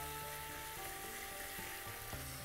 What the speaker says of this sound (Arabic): بس نشوح الفلفل بتاعنا في الزيت مع البصل